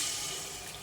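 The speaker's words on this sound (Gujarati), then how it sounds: "પાણી પાણી રેડી દઈશું." Water poured into a cooking pan of spiced mixed vegetable and paneer curry, a brief steady hissing splash filling the short moment at close range with no voices.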